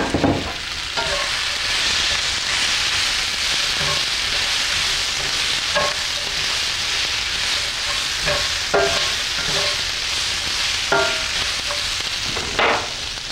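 Beans and sage sizzle steadily in hot oil in a pan, a continuous loud frying hiss broken by occasional clinks and scrapes of stirring.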